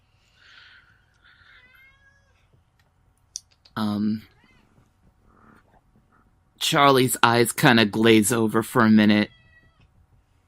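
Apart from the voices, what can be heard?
cat meowing loudly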